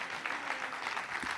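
A ceremony audience claps at a twentieth-anniversary employment initiative event, a brief steady patter of applause from a moderately sized crowd, heard at a modest distance.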